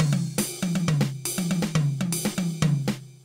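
A sequenced drum pattern cycles through ride, high mid tom, low mid tom and snare in a quick repeating groove, with crisp hits and tonal tom thumps over about three seconds, no voice.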